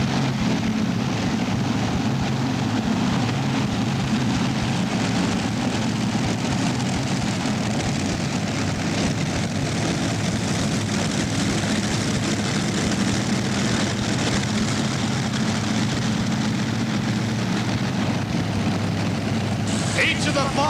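A Texas Money Farmer pulling tractor powered by five 510 cubic inch Rodeck engines roars without letup at an indoor pulling event, a loud continuous engine drone under an announcer's talk.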